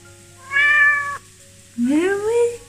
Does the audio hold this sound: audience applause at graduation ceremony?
no